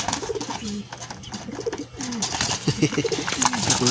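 Pigeons cooing repeatedly in soft, rolling calls close by, with several birds overlapping against a background of rustling and faint noise.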